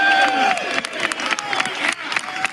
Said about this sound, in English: let's everybody stand up and clap